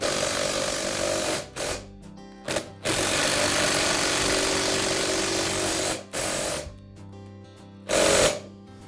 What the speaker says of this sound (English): so I'll use the impact driver to install them